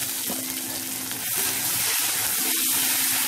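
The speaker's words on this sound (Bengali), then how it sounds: "ভালো করে কষিয়ে নিচ্ছি" Garlic, ginger, cumin and onion pastes fry in a pan for a fish dopiaza, a steady loud sizzle with soft stirring scrapes running the whole time.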